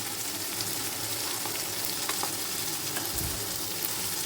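Tomato, onion and green chillies fry in a pan with a dense, continuous sizzle, close and even throughout, with a few faint stirring taps.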